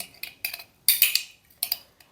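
Metal spoon clinking against a baking tray as cookie dough is dropped on, a few short scattered clinks and taps in quick bursts, close and fairly quiet.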